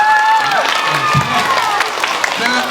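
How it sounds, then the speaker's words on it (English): A school audience gives a short burst of applause with some cheering for Sunset, a guest author's companion, with excited young voices and chatter mixed in over the clapping. "Let's give Sunset a round of applause."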